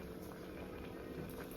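A pot of curry with chili powder stirred in boils steadily on the stove, giving a dense, continuous bubbling close up with no talk.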